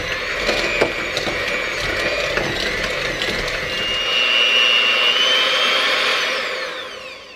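An electric mixer creams butter, brown sugar and salt for a pecan pound cake, giving a close, steady whirring grind with ticking beater noise. The motor pitch rises midway, then winds down at the end.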